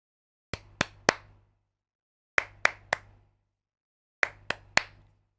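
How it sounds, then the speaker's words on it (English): Three groups of three sharp hand claps, recorded into Ableton and played back, evenly spaced with pauses between sets, crisp and close in a quiet room. "Sorry if that clapping was a bit loud."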